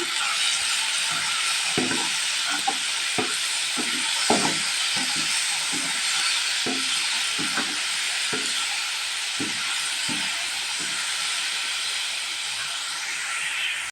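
Potatoes cook in hot oil for a hotel-style potato gravy, giving a steady, even hiss and sizzle throughout, with scattered soft clicks and taps of a utensil or pan over the top.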